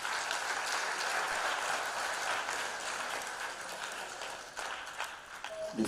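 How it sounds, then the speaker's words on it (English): Audience applause at the Lagos State 2024 budget consultative forum, a steady broad wash of clapping from a crowd that stays fairly even, easing slightly toward the end. "I think Oga deserves another applause, please"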